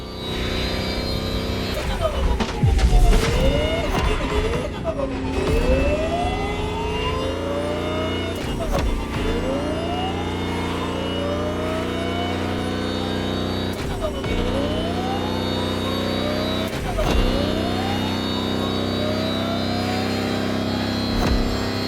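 An electric Lamborghini concept car races in The Crew Motorfest, its motor whining upward repeatedly through rising pitch sweeps, broken by sharp shifts, steady and fairly loud, with a voice talking over it.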